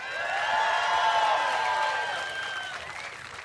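Crowd at a Bassmaster Elite fishing tournament weigh-in on Lake Guntersville cheers, whoops and applauds loudly, swelling for a couple of seconds and then easing off.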